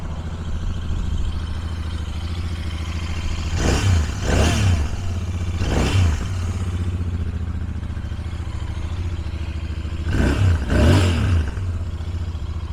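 A Royal Enfield parallel-twin motorcycle with its factory exhaust idles close by with a deep, steady throb, rising in two pairs of short throttle blips before settling back to idle.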